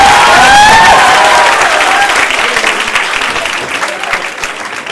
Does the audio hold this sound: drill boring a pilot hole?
no